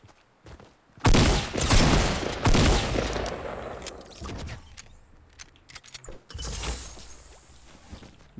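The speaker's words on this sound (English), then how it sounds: "Minigun." A minigun in the Fortnite video game fires in two loud, sustained bursts, a dense roaring rattle with a quiet gap between and mechanical clicks around it.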